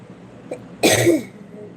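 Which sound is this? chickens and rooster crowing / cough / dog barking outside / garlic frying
cough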